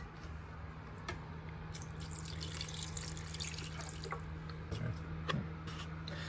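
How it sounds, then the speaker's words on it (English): Filtered water is added to porcelain slip in a bucket, giving a soft, continuous pouring and trickling wash with a few faint drips, low in level against steady background noise. "add some filtered water to it"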